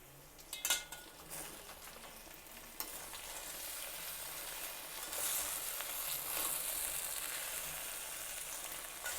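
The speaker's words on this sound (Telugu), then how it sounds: "ఉల్లి ముద్ద వేసాక మనం ఇందాక కలపలేదు కదా, ఇప్పుడు కలుపుదాము." Raw banana curry with onion paste being stirred in a pan, a steady sizzle of frying under repeated scraping strokes, a few sharp clinks of the spoon early on, close and continuous with no talk.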